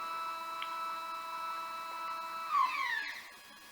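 A Skywatcher telescope mount motor whines with steady tonal hum while slewing, then pitches shift and sweep as it speeds up and changes direction, quiet and close.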